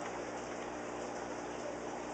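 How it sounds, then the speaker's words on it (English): Water from a bucket at an aquarium shop patters steadily, a continuous hissing spatter like light rain, heard alone at moderate level throughout. "It's just going to drip out of the bucket."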